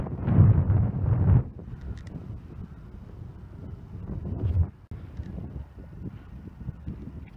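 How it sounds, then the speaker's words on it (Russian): Outdoor wind gusting against the microphone during a walk in Kazan, a strong rumbling burst at first, then steadier lighter buffeting with faint rustling. "Ветер начался, наверное, дождь будет."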